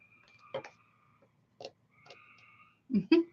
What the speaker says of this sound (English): I have a creek that goes all the way around my property. Lots of frogs right now.